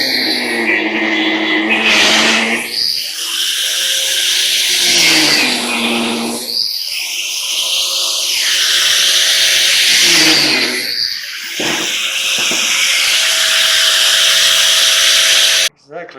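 A power tool cuts through a metal combustion motor case, a loud harsh grinding whine running in long bursts with brief pauses, close up and steady, ending abruptly.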